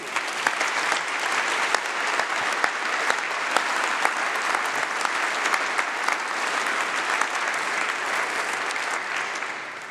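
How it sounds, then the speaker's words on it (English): A large congregation audience gives long, even applause for doctoral graduates at a university winter ceremony, a steady roar of many hands clapping that holds at full strength throughout. "Huge round of applause to our doctorates."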